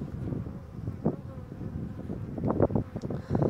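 A low, steady buzz of honeybees at a beehive during a spring inspection, with swelling bursts and some wind rumble on the microphone, and no voices.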